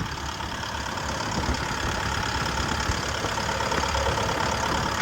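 A turbocharged Isuzu diesel engine in a 2012 Hitachi ZX120-3 excavator idles steadily up close, a constant low rumble with a rough knocking texture that never changes pace.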